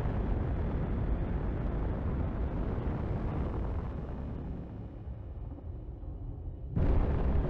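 Railguns fire at a battleship in the space game Space Engineers, a continuous heavy rumbling roar of blasts that fades slightly, then a sudden loud burst near the end.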